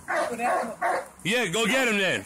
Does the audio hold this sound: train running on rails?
no